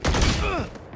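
A single loud gunshot from the Valorant shooter game, firing close up with a sharp burst and a brief ringing tail that fades within a second.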